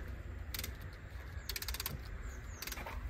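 A ratcheting rewind tool pushes back the front brake caliper piston on a 2007 Citroen C2 1.6 VTS, giving three short bursts of rapid metallic clicks against a low steady background hum.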